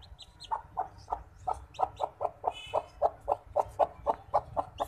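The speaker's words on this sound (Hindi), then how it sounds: "इसमें से आ रही है चूचू की आवाज़।" A black chick peeps in rapid, evenly spaced chirps from inside a hatching hen's egg while it breaks out of the shell. The peeps are close and clear and run without any talk.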